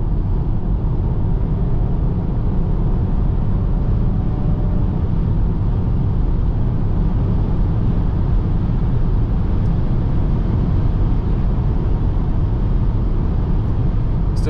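A 2023 Renault Austral E-Tech hybrid 200 accelerates hard at full throttle from about 100 km/h at night, with a dense, steady cabin roar of engine, road and wind noise throughout.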